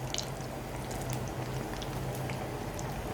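Chicken bread patties frying in a pan, a steady soft sizzle with scattered small pops and crackles, continuous and fairly close.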